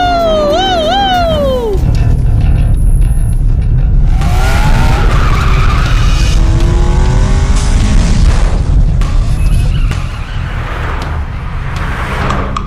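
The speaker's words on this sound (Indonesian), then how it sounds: "Ada mobil nyusul." Racing cars skid with sharp tire squeals and roaring engines in a street race, loud and close throughout, with rising whine pitches and a booming rumble underneath.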